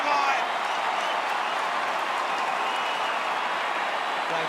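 A large football crowd at an AFL match between St Kilda and GWS roars and applauds in a continuous, dense wash of cheering, with a commentator's voice faintly over it.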